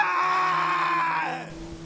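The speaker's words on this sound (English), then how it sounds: "A shrill scream" Shrill scream effect in a Donner Summit tunnel ghost story: a single loud, sustained high cry lasting over a second that slowly falls in pitch and breaks off, with no talk over it.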